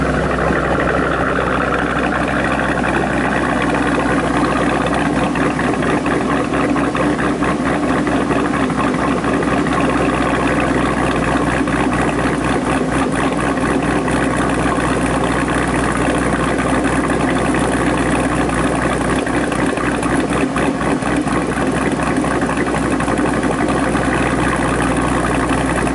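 A 2008 Ford Mustang Bullitt fitted with Ford Performance cams idles steadily and loudly from the rear, a continuous low engine rumble with a lumpy pulse and no talk over it.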